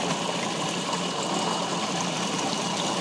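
Water pump running on a specially built gold trap contraption, a steady, close, rushing and gushing water sound with a constant hiss and no pauses.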